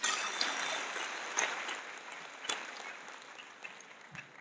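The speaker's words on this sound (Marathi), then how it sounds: "जरा टाळ्या वाजवा." An audience of women at a Women's Day political gathering in Satara claps, a faint, distant, steady patter of applause with a few louder claps standing out.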